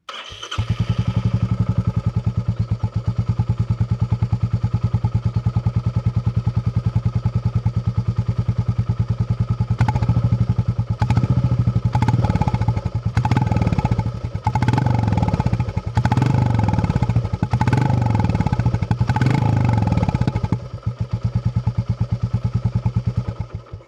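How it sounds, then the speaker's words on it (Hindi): A Royal Enfield Classic 350 motorcycle with an aftermarket exhaust and 51,000 km on it starts electrically and runs with a steady, throbbing idle, then revs in several quick bursts with clattering mechanical noise before settling again. "और सेल्फ मारने पे कुछ इसका इस तरीके से आवाज़ आता है।"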